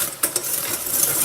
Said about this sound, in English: Keep whisking, you don't want to whisk too much air out.